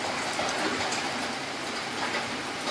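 Heavy rain pours down in Soc Trang, a dense, steady hiss of drops on surfaces with no break, loud and close.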